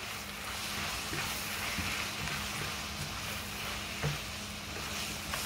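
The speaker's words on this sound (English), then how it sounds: "Stir that up." Taco seasoning stirred in a frying pan, a constant loud sizzle hiss close up with faint scraping knocks of the spoon against the pan.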